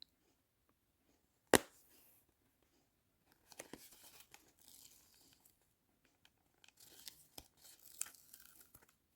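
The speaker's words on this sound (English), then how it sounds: "After I have put my double-sided tape, going to take that off while putting my ribbon" Backing strips away from double-sided tape during ribbon crafting with a sharp tearing rip, followed by two bursts of quiet crinkling and peeling noises separated by near silence.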